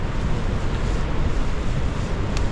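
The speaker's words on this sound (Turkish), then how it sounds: "Görüyorsunuz arkamda şelale." Iguazu Falls on the Brazilian side in rain: a loud, dense, continuous roar of falling water, broadband and unbroken, close and alone with no voices.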